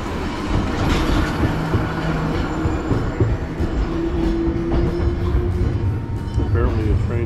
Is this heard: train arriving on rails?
yes